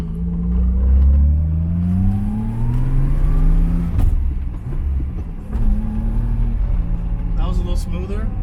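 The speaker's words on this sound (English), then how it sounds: "you kind of want to blip the throttle so it doesn't shift the weight" A car engine revved with quick throttle blips during a gear change, the pitch rising and falling in smooth sweeps close by, with a person talking over it.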